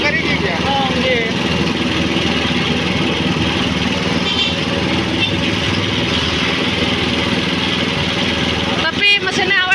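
A small engine runs steadily and fairly loud throughout, a continuous mechanical drone with talk over it, ending in a brief clatter near the close.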